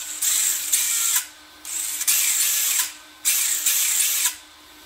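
Electric drive of a Yokomo YD2 SXIII RC drift car with a sensored motor, revving in three bursts of about a second each with short quiet gaps between, a loud high whine close by.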